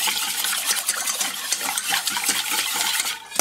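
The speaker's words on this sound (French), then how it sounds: "Et là, pareil, on mélange rapidement." Eggs and sugar are mixed quickly into an orange cake batter, with a utensil scraping and clicking against the bowl in a fast, even rhythm close by, alone with no voices.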